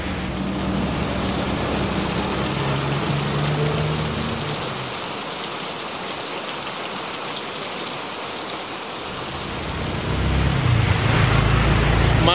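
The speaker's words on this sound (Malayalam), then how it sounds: "മഴ ഇപ്പോഴും ചാറുന്നുണ്ട് കേട്ടോ." Steady rain falls in a village area within Kuala Lumpur, a continuous broadband hiss that thins for several seconds midway before swelling again with a heavier rumble near the end.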